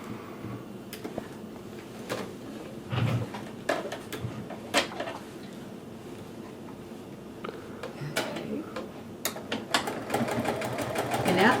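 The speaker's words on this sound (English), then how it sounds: "And then you start sewing with a zigzag." Sewing machine running a zigzag stitch with a walking foot while making a flower pillow, a close, steady mechanical hum punctuated by sharp irregular clicks and taps across the run.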